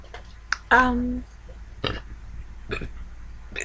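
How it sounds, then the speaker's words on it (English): A single drawn-out, croaky burp up close, surrounded by a few brief sharp mouth noises and faint background hiss. "I burped."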